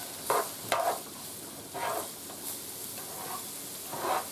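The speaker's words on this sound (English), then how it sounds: "See that sizzle?" Pork chop skillet ingredients sizzle and crackle in a hot pan, with a few scraping stirs cutting through the steady hiss.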